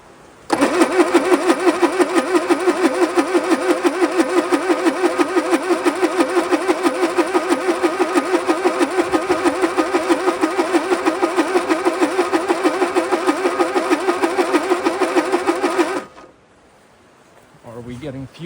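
An old engine that has stood still for 50 years cranks over with a loud, rapid rhythmic chugging of the starter for about fifteen seconds without catching, then stops, leaving quiet and a faint voice.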